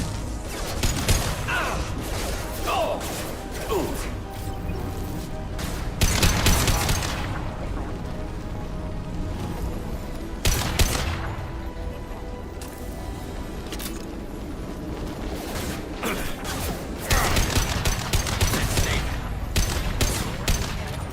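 Gunfire crackles in a Mass Effect 2 firefight, with loud bursts of shots and booms coming in clusters and quieter stretches of scattered fire between them.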